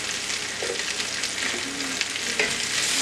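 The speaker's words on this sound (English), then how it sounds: "Give that a nice stir." Home fries with sausage, onions, garlic, parsley, paprika and red pepper flakes are stirred in a cast iron skillet, giving a steady close sizzle with scraping stirs and a few brief clacks of the utensil.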